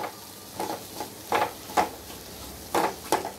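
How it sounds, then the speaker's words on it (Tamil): Green masala being sautéed in a pan for a Kerala banana leaf fish fry (meen pollichathu): intermittent close scrapes and stirs of a spoon over a soft, low sizzle, with short pauses between strokes. "கொஞ்ச நேரம் மூடி வச்சு வணக்கி நல்லா மசாலா நல்லா வணக்கி எடுத்துக்கலாம்."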